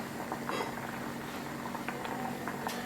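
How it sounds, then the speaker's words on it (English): Carrots, beets and onions sauté in a few tablespoons of oil, a steady close sizzle with scattered small pops and crackles throughout. "we're going to add our carrots, beets, and onions into a bit of oil"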